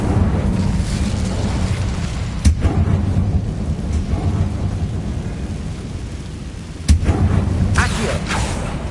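A fiery Incendio spell blast from the Hogwarts Legacy video game bursts out amid a continuous roaring, rumbling battle din, with two sharper booming hits standing out over the loud, steady low roar.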